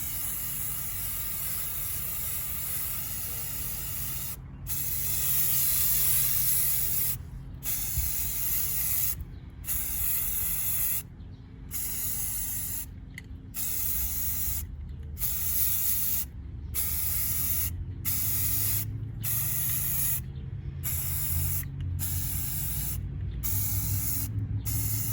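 Rust-Oleum Ultra Matte Black spray paint hissing from a can in a long run of bursts of several seconds each, separated by short silent gaps, loud and close with no talking.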